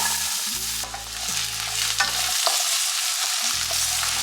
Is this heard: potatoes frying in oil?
yes